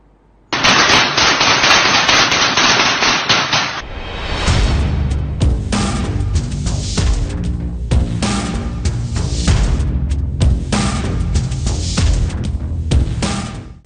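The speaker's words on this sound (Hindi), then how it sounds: "टारगेट प्रैक्टिस के दौरान जेरेमी कॉर्बिन की तस्वीर पर गोलियां बरसा दी।" Rapid gunfire from British Army soldiers at target practice rattles continuously for several seconds, loud and close, with bursts of individual shots following a hissing opening.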